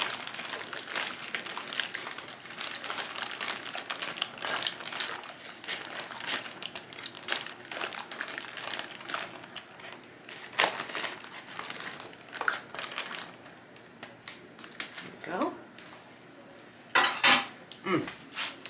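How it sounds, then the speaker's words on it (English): A spoon stirs and scrapes through dairy-free freezer-meal ingredients in a crockpot, giving a busy run of clinks, scrapes and crinkling sounds that keeps going with a few louder knocks near the end. "So I am going to take a spoon and just mix this up."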